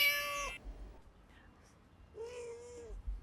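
A kitten meows twice, a short high cry followed by a longer drawn-out mew, close to the microphone over quiet room tone.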